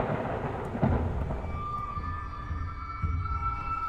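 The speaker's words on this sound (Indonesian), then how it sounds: "suara petir menggelegar." Thunder rumbles low and steady with a sharper crack near the start, followed by a faint lingering tone as the rolling roar slowly fades.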